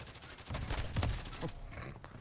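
Gunfire in Call of Duty on the Shipment map, heard as a quick, fairly loud burst of automatic shots that then tapers off.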